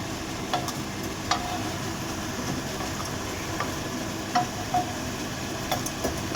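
Ingredients for tomato chutney frying in a pan, giving a steady sizzle with occasional scraping stirs and soft clinks, moderately close and without voices.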